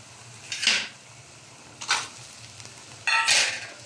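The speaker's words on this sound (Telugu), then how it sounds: "ఇవన్నీ కూడా బాగా సన్నని సెగ మీద వేయించుకోవాలి" Ginger pieces frying in a pan over low heat for ginger pickle, three separate bursts of sizzling as the pieces are stirred, fairly close with quiet gaps between.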